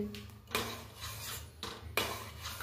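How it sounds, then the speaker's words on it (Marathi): Rice for kheer stirred in a pot over a low gas flame: a spoon scrapes and clinks against the pot in a few quick strokes, close and fairly quiet. "असंच तुम्हाला कंटिन्युअसली हलवून घ्यायचे हे, या पद्धतीने।"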